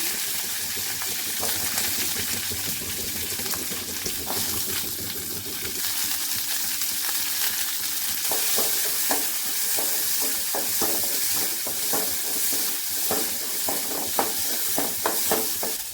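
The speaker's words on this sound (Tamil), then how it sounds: "எண்ணெய் காஞ்சிருச்சு கடுகு உளுத்தம் பருப்பு சீரகம் போட்டுக்குவோம்" Mustard seeds, urad dal and cumin fry in hot oil for sambar, giving a steady close crackling sizzle dotted with sharp pops and clicks of stirring, with no voices.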